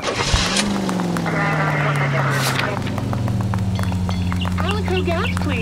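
A 1940s-style car drives in L.A. Noire, its engine a steady, sustained hum that rises briefly and then holds, with voices talking over it.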